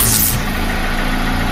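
A secondhand motorcycle's engine runs steadily at idle, a close, continuous low rumble with a brief hiss at the start and no talk.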